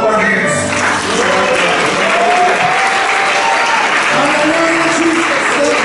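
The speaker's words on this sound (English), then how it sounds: "Let's clap our hands." A church congregation at a thanksgiving anniversary service claps together in a dense, loud, sustained burst of applause, with voices calling out faintly over it.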